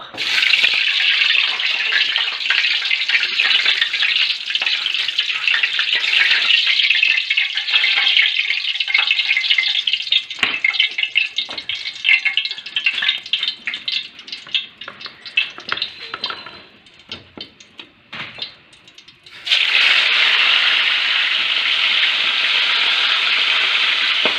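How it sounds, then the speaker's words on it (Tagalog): Milkfish sizzles and crackles loudly in hot oil, with sputtering pops as it fries, easing off briefly before a strong sizzle surges back. "Prito ko na po."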